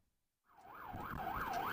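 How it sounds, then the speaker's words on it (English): A police siren wails in a steady rising-and-falling pattern, starting abruptly after a brief silence and holding loud and close for over a second, with faint traffic rumble underneath. "Alright, police sirens."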